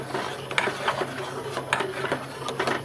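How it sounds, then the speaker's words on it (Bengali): A spoon scrapes and clinks against a metal pot while boiled milk is stirred, producing irregular light knocks and scrapes at moderate volume over a steady background hum. "দুধ ফুটে গেছে, ভালো করে দুধটা নেড়ে নিই।"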